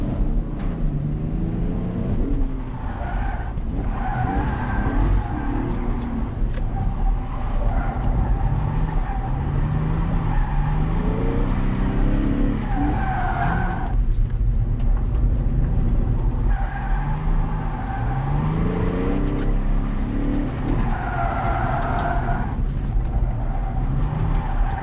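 Car drifting at a drift event with a new Origin Lab body kit, tires screeching in long sweeping squeals over a loud, rising and falling engine roar, repeating several times at moderate distance without talk.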